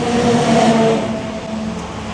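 Road traffic rumbles past loudly at a residential excavation site, with a vehicle's steady engine drone swelling and then easing slightly.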